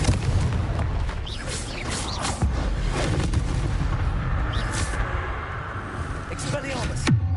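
Fire-spell blasts boom and crackle in a Hogwarts wizarding video game, dense overlapping bursts with whooshes and sharp cracks, a steady loud barrage with a brief rising zip near the end.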